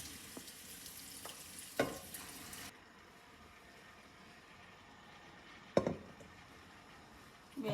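Vegetables fry in a pan for a pasta with mussels dish, a soft, steady sizzle close by, broken by a few sharp knocks of utensils against the pan.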